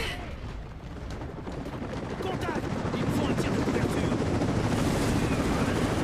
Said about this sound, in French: vous êtes à l'hélicoptère pour me shooter, vous êtes sérieux?